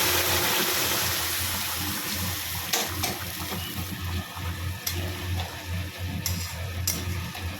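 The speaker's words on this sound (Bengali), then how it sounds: "এখন দিয়ে দিচ্ছি গরম জল।" Hot water pouring into a pan of hilsa fish curry with green chillies, a steady close gushing stream with a few clinks of utensils and no talk.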